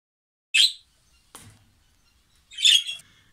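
A budgerigar chick gives two short, high chirping calls about two seconds apart, close and fairly loud, with a faint rustle between them.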